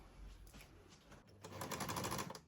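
The presser foot on a mechanical sewing machine is lowered, giving a soft close click followed by a short metallic rattle of the mechanism, with no voices.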